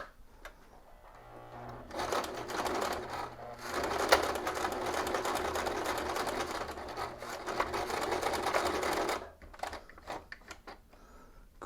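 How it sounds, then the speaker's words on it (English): A sewing machine stitches elastic in a rapid, continuous whir for about seven seconds, starting and stopping abruptly, close and loud with no talking. "Let's get the sewing machine."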